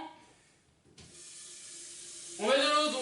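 Water runs from a tap with a soft hiss, then pours more heavily into a metal saucepan, rising in pitch as it fills.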